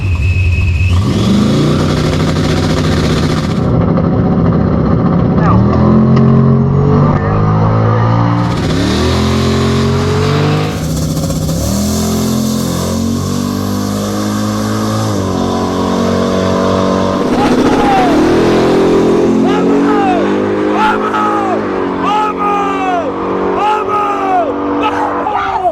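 Drag race cars, including a ProCharged Chevy II Nova, launching and accelerating down the strip: loud, rising engine roars that shift pitch through the gears, with commentary running over them.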